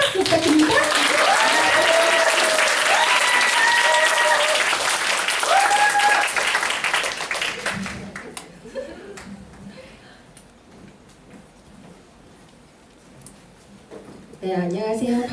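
Loud, dense applause welcomes a speaker onto the stage at a Korean product-introduction seminar, mixed with music and a voice at first. It fades to a quiet lull after about eight seconds, and louder sound returns at the end.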